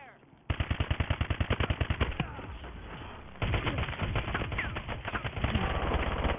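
Rapid automatic gunfire from Call of Duty: Advanced Warfare, a fast rhythmic burst of shots in the first two seconds, then more sustained firing and explosive battle noise continuing to the end, with faint talk underneath.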